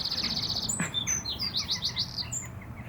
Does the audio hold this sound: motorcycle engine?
no